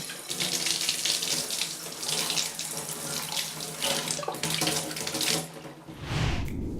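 Wine bottles rinsed under a sink-mounted sprayer: a loud, steady hiss of spraying water running continuously, shifting in tone near the end as the stream hits the bottle differently, with no talking.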